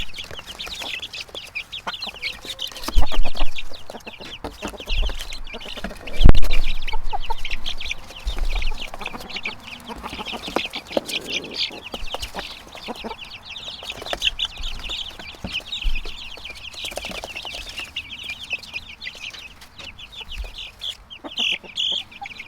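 Chicks about three and a half weeks old clucking and cheeping continuously up close, with a few louder bursts and rustling movement throughout.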